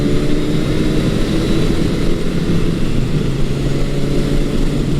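The engine of a 1980 Honda CB900 Custom motorcycle, with its air fuel screws set three turns out, pulls smoothly from low RPM. It gives a loud, continuous drone from close by, with no talk.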